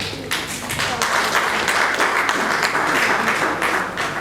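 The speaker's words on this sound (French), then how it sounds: "Est-ce qu'on peut applaudir pour lui?" Steady applause from an audience at a wedding and events fair in Mbuji-Mayi, a continuous wash of many clapping hands held at an even level, with faint talk underneath.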